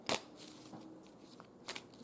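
Tarot cards riffled and pulled from a deck, a sharp burst of papery shuffling at the start and another quick flutter near the end, with soft handling rustles between.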